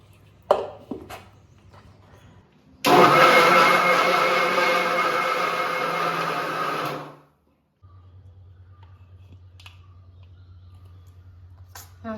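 A kitchen blender whirs steadily for about four seconds, blending pineapple, milk and other ingredients into a pineapple milkshake, then winds down and stops, with faint clicks before and after.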